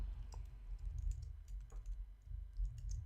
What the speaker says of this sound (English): I'm going to click and drag like I talked about earlier, and I'm going to type in my text